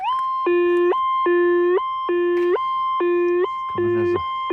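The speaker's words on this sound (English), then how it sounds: "It's kind of got a double beep to it." A metal detector's electronic beeping tone pulses in five short bursts over a steady background hum, a double beep marking iron, the last burst warbling lower and rougher; close and clear.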